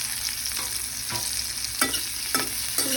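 Onions frying in a pan and being stirred, a steady sizzle broken by a few scraping stirs of a spoon, close and alone with no talk.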